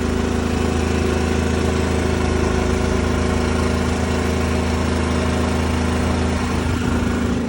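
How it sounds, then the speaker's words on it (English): A school bus engine idles loudly and steadily, a constant low rumble with mechanical vibration, no voices over it. "Here's your engine."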